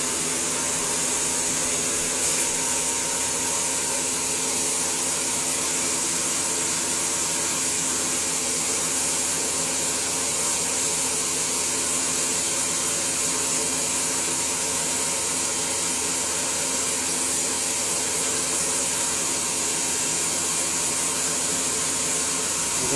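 An electric mixer runs at maximum speed whipping a marshmallow mixture for a zefir tulip confection, giving a loud, constant whirring drone that stays close and unbroken throughout, with no talk.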